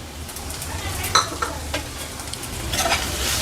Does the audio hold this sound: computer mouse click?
no